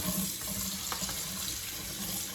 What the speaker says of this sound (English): To fix that, I'm just gonna run some water over it.